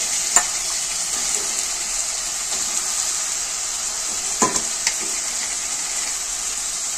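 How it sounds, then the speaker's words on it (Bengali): Washed chicken pieces go into frying onions for a Kolkata-style chicken chaap, giving a steady hissing sizzle with a few soft clinks and stirs, close and alone without speech. "পেঁয়াজটা ভাজতে ভাজতে আমি আগে থেকে যে মাংসটা ধুয়ে রেখেছিলাম, মাংসগুলো দিয়ে দেবো পেঁয়াজের মধ্যে"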